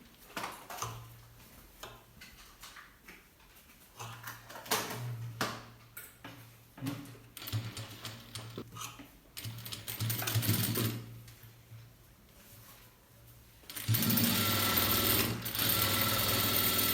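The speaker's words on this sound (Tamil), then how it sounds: "இதுக்கு மேலே ஒரு பதிச்சு தையல் போட்டுக்கோங்க" Sewing machine stitching a blouse, running in bursts of rapid, even mechanical ticking that stop and restart, growing louder and steadier toward the end.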